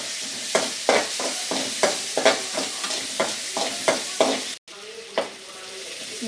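Onions sautéing in a pan for a brinjal and dried fish dish, with a steady sizzle broken by a regular series of sharp scraping stirs, close and prominent, then a brief cut before the frying resumes.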